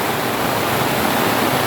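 Heavy rain falls on farmland and rice paddies, a dense, loud, unbroken hiss with no breaks and no voices.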